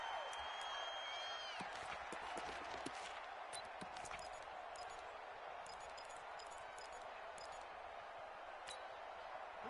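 Stadium crowd noise from a football video game, a steady, loud roar of home-field fans with whoops and sharp pops cutting through.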